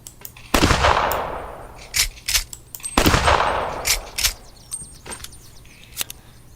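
Rifle gunfire from an old firearm rings out in two loud, sharp reports with long echoing decays, followed by several quicker, fainter shots and clicks in between.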